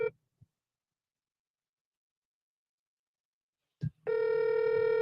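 An outgoing phone call rings with a steady electronic ringback tone that starts after a short click near the end, loud and close, following near silence with no talk.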